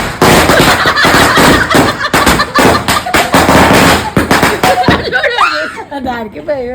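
Diwali firecrackers burst in a dense, rapid series of sharp pops and crackles, loud and close, with people talking and laughing underneath.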